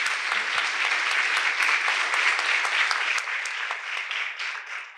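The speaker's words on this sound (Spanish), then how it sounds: "un aplauso para ustedes mismos, que han dejado tantas cosas para estar aquí. El mayor aplauso." A church course audience gives sustained applause, dense steady clapping from many hands that fills the whole stretch and eases slightly toward the end.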